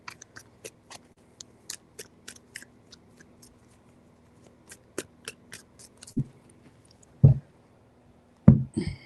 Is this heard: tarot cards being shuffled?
yes